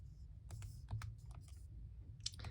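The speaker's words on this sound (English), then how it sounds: "I could type in my equation if I want" Fingers tap a graphing calculator's keys to enter an equation, a quick run of soft, close plastic clicks in an irregular rhythm over a low hum, with no voices.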